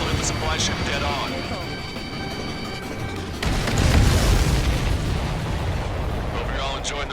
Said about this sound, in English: Missile hit the supply ship dead on.